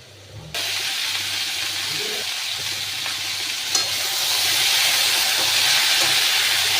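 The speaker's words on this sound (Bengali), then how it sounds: "আলুটাকে বেশ ভালো করে ভাজবো আগে।" Potatoes frying in a pan give off a steady, loud sizzle and hiss that starts suddenly and keeps on, swelling a little toward the end, with no one talking.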